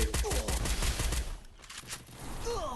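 Rapid bursts of gunfire from the video game Free Fire, a dense rattling volley over the first second and a half, then quieter scattered shots with a brief whooshing effect near the end.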